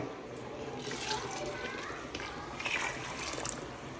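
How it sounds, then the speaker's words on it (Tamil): Two litres of water pour steadily into a pot of goat trotter soup, a continuous splashing gush close up with slight shifts in pitch as it fills. "இப்போ ரெண்டு லிட்டர் தண்ணி ஊற்றிக்கலாங்க"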